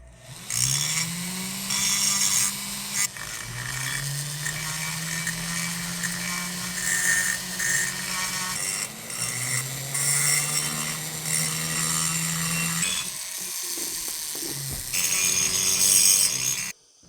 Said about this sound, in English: Just 150 grit, diamond, eBay, cheap, abrasive ball is all I use to put bevels in.